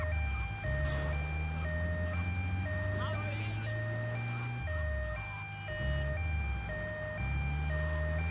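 A repeating electronic two-tone ambulance siren in Grand Theft Auto: Vice City wails steadily over engine hum, with a voice talking over it.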